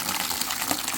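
Water gushes hard from a tap just after a line filter valve is opened, the first flow muddy, a dense continuous hiss and splash heard up close for a brief moment.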